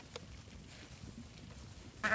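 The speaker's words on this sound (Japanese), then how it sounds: "車庫団町の草原を走る羊たち" Sheep in a meadow in Shakotan, Hokkaido, are heard mostly as a quiet outdoor hush before one close, sharp bleat bursts out at the very end.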